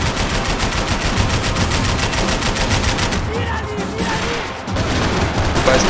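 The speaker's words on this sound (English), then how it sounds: "I can't concentrate with bullets whizzing past my head" Heavy gunfight in Max Payne 3, with continuous loud rapid gunfire for about three seconds, then scattered shots and debris before the firing picks up again.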